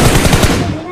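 Automatic gunfire in the mobile battle royale game BGMI: a loud, close rapid burst of shots filling the whole second, with no speech over it.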